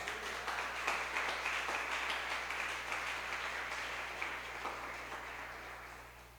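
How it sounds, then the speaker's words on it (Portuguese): A church congregation breaks into applause during a prayer service, a full, dense burst of clapping from many people that starts strong and gradually thins and fades over several seconds, with a low steady hum underneath. "Aplaude a Jesus."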